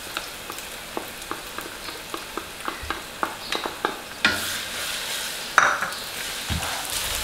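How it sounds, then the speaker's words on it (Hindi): About four tablespoons of ginger garlic paste frying with browned onions for a Pakistani sobat dish: a soft sizzle runs beneath steady scraping strokes of a spoon in the pot, followed by a few louder metallic knocks. "अभी हम इसमें ऐड करेंगे जो हमने अदरक लहसुन पेस्ट किया था तकरीबन 4 टेबल स्पून"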